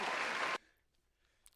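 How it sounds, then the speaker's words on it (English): A burst of audience applause during a podcast recording, dense and loud for about half a second, then cutting off abruptly into near silence with a faint sound near the end. "We'll give you a round of applause here too."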